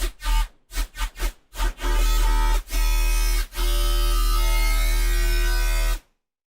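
A buzzing, gritty synthesizer bass for spooky music, starting with choppy stuttering bursts and then holding long, loud sustained notes with rich harmonics and brief gaps, ending abruptly in silence.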